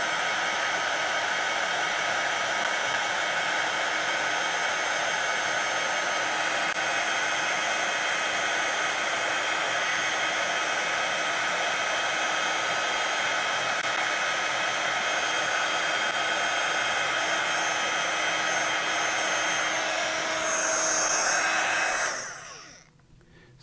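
A hair dryer blows on artwork at close range, a loud, steady whooshing roar that holds evenly for about twenty seconds before cutting off abruptly, with no talk.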